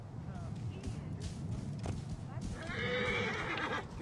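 Horse whinnying with clip-clopping hooves in the video game Assassin's Creed Origins, a rising neigh toward the end over steady trotting and game background noise.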